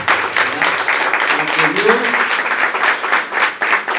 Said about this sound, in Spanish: vamos a darles un fuerte aplauso a todas estas personas que han colaborado